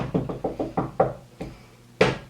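Knuckles rapping on wood close up: a quick run of about six sharp knocks, then two more spaced-out raps after a short pause, with no talking.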